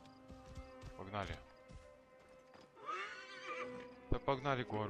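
A horse whinnies loudly twice in Assassin's Creed Origins, the second neigh rising sharply near the end, with a steady tonal background and brief talk early on.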